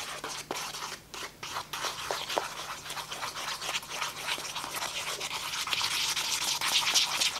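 Powder face mask being stirred and mixed in a small bowl, a close rhythmic scraping and brushing sound that grows slightly busier toward the end, with no speech.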